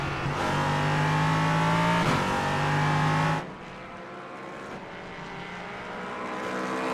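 A race car in the iRacing game at Brands Hatch roars loudly past, its engine note rising then cutting off abruptly, leaving a quieter engine hum that slowly builds again.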